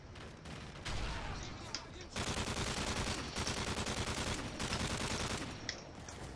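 Strafe run gunfire in the Modern Warfare 3 campaign: sustained rapid automatic fire, loud and continuous for several seconds with brief gaps, a few sharp single cracks, faint talk at the start.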